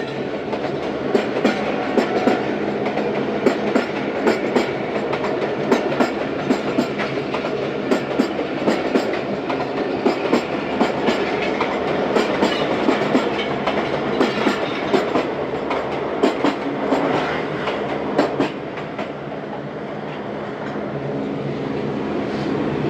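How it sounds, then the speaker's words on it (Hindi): The 42 Down Karakoram Express passenger train departs outside Lahore, a loud continuous rumble of wheels on track with rhythmic clickety-clack over rail joints that carries on for the whole stretch, easing slightly toward the end. "रवाना हो रही है। Hopefully 42 down Karakoram express."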